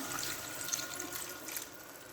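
A little water is poured into a pan of oil-fried ingredients, giving a soft, steady trickling splash at low volume with no talking.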